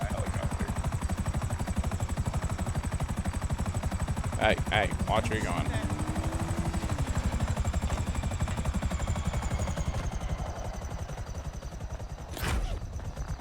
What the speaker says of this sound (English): Hopefully no cars will wreck in my helicopter.